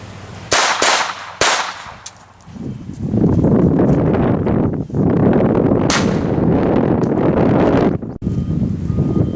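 Loud rifle shots crack close by: several sharp reports come in the first couple of seconds, followed by a long roaring rumble and more shots. Nobody speaks.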